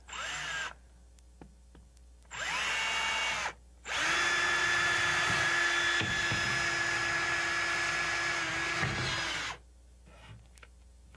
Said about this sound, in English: So you actually have to get your drill out and put a hole in each corner